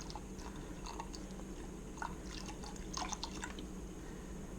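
Water pours for tea, close and quiet, with scattered trickles and small splashes in uneven bursts over a low steady background hum.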